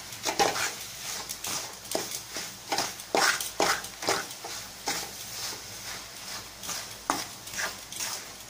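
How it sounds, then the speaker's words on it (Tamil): Grated coconut being stirred into sugar syrup in a pan for coconut barfi, a spoon scraping in regular rhythmic strokes, about two per second, close and moderately quiet, no talking. "நல்லா தேங்காய் பாகு எல்லாத்தையும் ஒன்றா நல்லா மிக்ஸ் பண்ணிடணும்"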